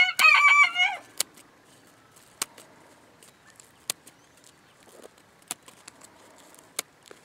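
A chicken squawks loudly in protest for about a second while its wing feathers are clipped, followed by a quiet room with sharp, sporadic clicks and snips.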